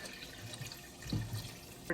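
Filtered water is poured into a cooking pot for a clam soup, making a soft, steady trickle with a couple of brief splashes at fairly low volume.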